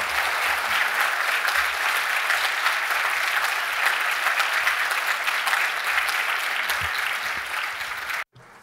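A large audience at a formal closing session applauds to welcome a city mayor on stage, steady dense clapping filling the hall for about eight seconds before cutting off abruptly.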